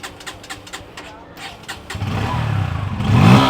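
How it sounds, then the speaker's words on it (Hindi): A Bajaj Pulsar N160 motorcycle with an underbelly exhaust cranks a few times, then its engine catches and idles, getting louder toward the end. "आइए बाइक को स्टार्ट कर लेते हैं। सबसे पहले तो N160 को"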